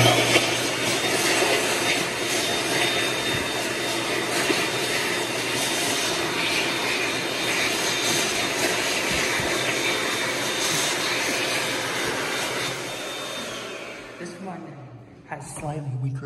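An Excel Dryer ThinAir hand dryer, made in 2021, blows a loud, steady, broadband roar of air at a public park restroom. The roar fades out near the end.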